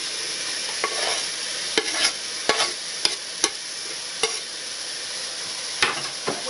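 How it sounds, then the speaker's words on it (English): Ground beef browns with one chopped medium onion in a pan for meat tomato pasta sauce, giving a soft steady sizzle punctuated by sharp, irregular spatula scrapes and taps. "I'm halfway through the browning process of the beef."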